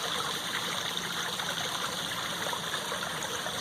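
A stream runs through a backyard pond past floating water hyacinth, giving a steady, close wash of trickling water with no pauses and no voices.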